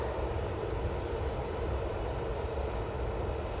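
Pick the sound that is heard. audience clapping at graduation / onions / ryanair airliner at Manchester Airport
ryanair airliner at Manchester Airport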